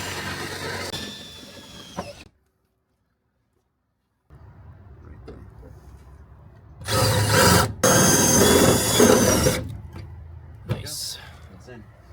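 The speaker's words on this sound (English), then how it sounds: "we'll use a self-tapper to hold that in place" A power drill whirs briefly, then after a silent gap runs again in two loud bursts driving a self-tapping screw into an aluminum Sprinter van platform bed, with faint speech in between.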